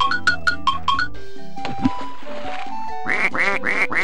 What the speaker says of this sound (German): Zähle die Anzahl der Enten, die quaken.